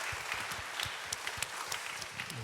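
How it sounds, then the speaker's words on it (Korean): A young adults' church service crowd gives a round of applause, a soft, continuous patter of many hands with a few sharper individual claps standing out, heard from a moderate distance. "우리 박수 한번 할까요?"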